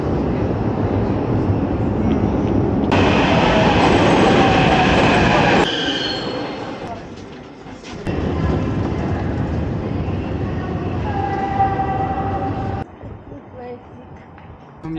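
A Kyiv metro subway train rumbles and squeals along the rails underground, loud and close, with the tone shifting as it brakes and moves off, wheels screeching in places.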